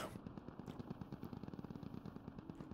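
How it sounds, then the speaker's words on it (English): Rapid bursts of automatic gunfire in the game Squad, a steady rattling stream of shots with a continuous low rumble underneath. "Seems like there's gunfire going on."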